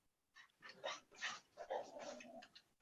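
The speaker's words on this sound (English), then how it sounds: "Hear the dogs barking?" Several dogs bark and yelp outside at a distance, faint and scattered, with some growling whimpers mixed into a continuous ragged chorus just after a loud explosion shook the house.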